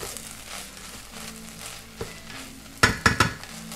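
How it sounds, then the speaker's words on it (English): Brown rice sizzling softly in a pan while being stirred, with a steady low frying hiss and a few sharp scraping clacks of the utensil near the end. "Give it a little stir here."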